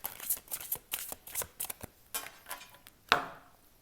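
Tarot cards riffled and shuffled in quick, crisp bursts during a reading, ending with one sharp card snap or slap as a card is drawn, close and clear in a quiet room.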